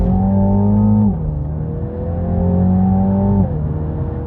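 A car engine drones loud and close from inside the cabin, its pitch dropping sharply twice as the driver downshifts and the engine brakes the car, with no talking.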